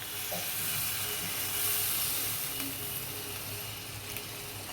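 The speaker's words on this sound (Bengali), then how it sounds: "এবার পরিমাণ মতো জল দিয়ে দেবো" Water poured into a sizzling pan of paneer curry, a steady loud hiss and bubbling that swells briefly midway and then settles into continuous sizzling, with no talk.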